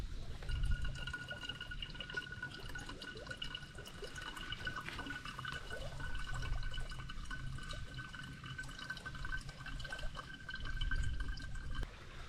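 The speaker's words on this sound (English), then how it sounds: "Fill up a water bottle, I think I'm gonna do that." Water runs steadily into a bottle, with a continuous trickling, gurgling flow and faint ringing tones, close by with no one speaking.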